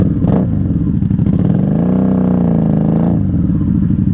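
A 1994 Honda Magna 750 (VF750C) motorcycle engine revs up loudly and close, rising to a sustained high-rpm howl around the middle before dropping back to idle, with no voices.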